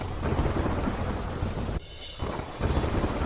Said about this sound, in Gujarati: ગાજવીજ સાથે ધોધમાર વરસાદ